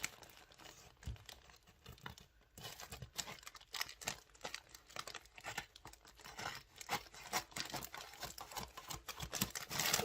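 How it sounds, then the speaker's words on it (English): Scissors snip a small hole in the top of a crinkly plastic package of yarn, giving steady close crackling and tearing rustles with short bursts over about ten seconds. "I'm just gonna get my scissors and I'm just gonna cut a hole in the top"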